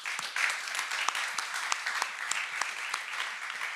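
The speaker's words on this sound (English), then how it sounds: "So I think that really deserves an applause." Conference audience applauding in a venue, a steady wash of many hands clapping throughout with scattered sharper individual claps, moderately loud and with no talking.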